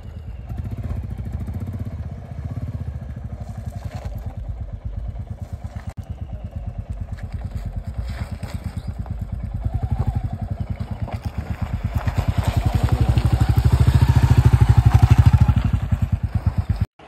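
Motorcycle at a campsite near Rishikesh as it is brought in and parked: a low, rapid engine putter running steadily for the whole stretch, swelling louder near the end before cutting off abruptly.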